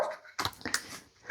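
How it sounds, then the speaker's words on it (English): A dog in the background gives a few short yips and whimpering barks, quick broken bursts at moderate loudness with no talk over them. "I hope you can hear my dog backing me up in the background."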